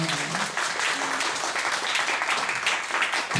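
A concert audience breaks into applause, a dense, steady clapping that fills the hall at moderate loudness for a few seconds.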